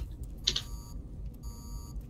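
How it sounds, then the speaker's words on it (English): Short electronic beep from the video game Rainbow Six Siege, a sharp high tone heard once near the start over quiet game ambience, with faint tonal hums continuing behind. "I heard the beep."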